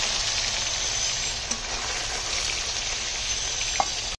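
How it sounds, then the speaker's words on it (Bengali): Paneer frying in hot oil, a continuous close hiss and crackle with occasional sharper pops, steady and unbroken until it cuts off abruptly at the very end; no one speaks. "তো পনির একটু ভেজে নিলে পনিরটা ভাঙবে না, আর খেতে স্বাদ হবে"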